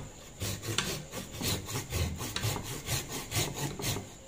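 A bonsai hand saw cuts wood in quick rhythmic back-and-forth strokes, each rasping pass close and distinct, about a dozen strokes in a row.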